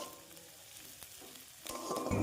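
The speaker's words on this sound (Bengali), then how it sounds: "এবারে আমরা পেঁয়াজগুলোকে কিছুক্ষণ ভেজে নেব।" Chopped onions frying in oil with a bay leaf, a quiet steady sizzle that swells louder near the end as stirring begins, close, with no talking.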